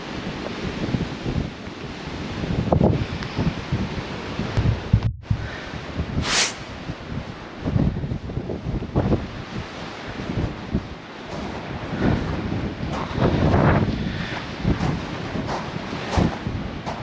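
Wind blows outdoors on the seashore, buffeting the microphone with gusty rumbling while surf rolls in the background, loud and continuous with no voices.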